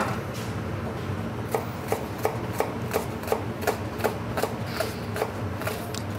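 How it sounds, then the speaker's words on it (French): A knife finely slicing a shallot on a cutting board, prepared for a stuffed tomato recipe. A steady run of crisp, evenly spaced cuts sounds up close against a low kitchen hum. "On va maintenant émincer notre échalote finement"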